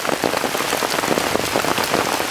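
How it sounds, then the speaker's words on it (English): Heavy rain pours down steadily onto a poncho shelter outdoors, a dense, loud hiss of drops drumming on the nearby surface with no pauses. "All right, so it did pour on us."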